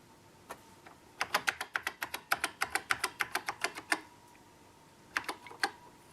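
A Nokia MikroMikko 1 keyboard under repair is tested key by key: a run of crisp, evenly spaced key presses fills the middle, with a few isolated taps before and after, close and clear with no talk.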